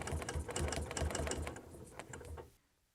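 A sewing machine stitches a quilt with a ruler foot guiding along a seam: a fast, steady mechanical chatter of needle strokes, close and fairly quiet, running for about two and a half seconds before stopping abruptly.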